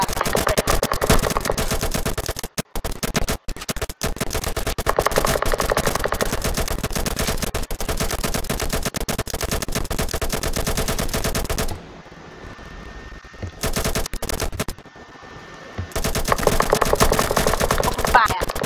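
Rapid sustained gunfire in a video game, dense automatic bursts rattling almost continuously and loudly, with a brief lull before the shooting resumes.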